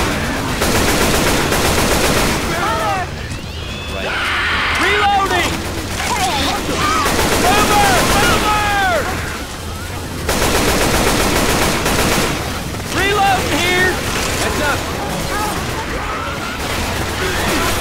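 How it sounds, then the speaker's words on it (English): Heavy gunfire erupts in Left 4 Dead 2, with near-continuous automatic bursts and overlapping shots throughout, broken by short lulls, while game voices call out over the shooting. "Can you stop shooting?"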